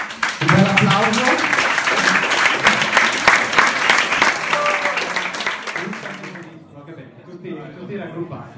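An audience claps at a certificate presentation ceremony in a castle hall, a loud burst of applause that gradually thins out, with voices talking over it and continuing as the clapping fades.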